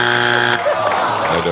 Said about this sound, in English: That is an aggressive buzzer.